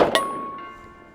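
A Smith & Wesson M&P R8 revolver bullet strikes a steel target at 50 yards, producing a sharp ringing metallic clang that hums and fades for about a second, heard alone.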